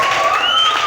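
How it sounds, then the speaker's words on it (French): A church congregation in Brazzaville applauds and cheers in a dense, loud, continuous wash of clapping with a steady high ringing tone running through it. "sur vos acclamations"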